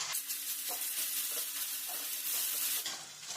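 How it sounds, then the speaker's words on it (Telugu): Ginger garlic paste fries in a pan, a steady close sizzle with faint stirring scrapes, alone with no voices. "ఇప్పుడు ఇందులో అల్లం వెల్లుల్లి పేస్ట్ యాడ్ చేసేసుకుందాం. పచ్చివాసన పోయేంత వరకు ఫ్రై చేసుకుందాం."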